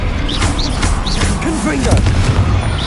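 Spell explosions in the Hogwarts Legacy video game, continuous booming blasts and crashes layered with magical whooshes and a busy game score, with people talking throughout.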